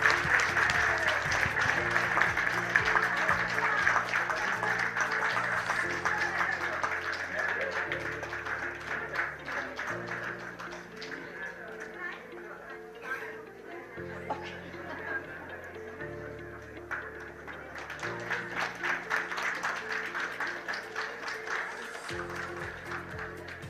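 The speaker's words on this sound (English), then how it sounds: "So a big round of applause and thank you to Diane" Sustained audience applause at a regional UNESCO Memory of the World committee meeting in Asia and the Pacific, steady clapping from a crowd with background music and a voice over it.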